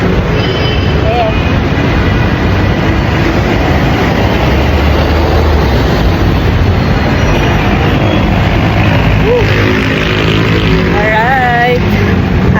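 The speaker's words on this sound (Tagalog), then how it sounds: "Sa LRT na kami." Interior rumble of a Manila LRT light rail train in motion, a steady loud broadband roar with faint rhythmic rail clatter throughout, and people talking briefly over it near the end.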